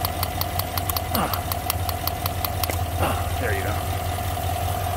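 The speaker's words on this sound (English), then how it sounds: "And it's definitely got a misfire now." A 5.3 V8 engine idling roughly with a misfire after a coil was disconnected, a steady close mechanical drone with ticking beneath, while a person speaks briefly.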